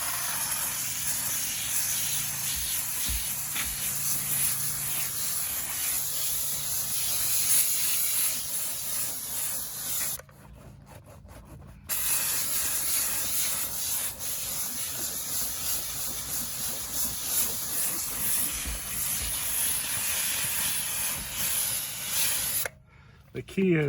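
A Harbor Freight 1500 watt steam cleaner hisses loudly and continuously as steam sprays from its nozzle, with two brief pauses where the jet stops, and a voice talking faintly underneath.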